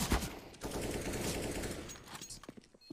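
Automatic gunfire rattles in a quick, loud burst in a competitive shooter match, the shots fading into scattered quieter pops toward the end.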